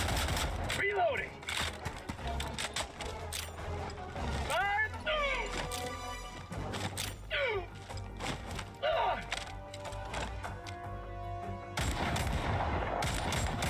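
Video game gunfire with bursts of shots and reload mechanisms, mixed with game voices and chatter, loud and recurring across the span.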